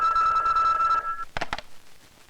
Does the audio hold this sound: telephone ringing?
yes